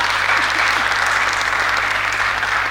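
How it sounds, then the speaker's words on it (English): Audience applause at a capstone conference fills the room steadily, a dense, loud wash of clapping from a large crowd with no pause. "Friends, please clap for this team."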